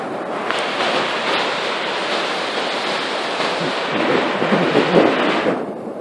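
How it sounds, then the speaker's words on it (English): High floodwater of the Trinity River rushes steadily in March, a dense, loud, continuous roar of churning current with slight swells in intensity, no voices over it. "Tremendous amount of water."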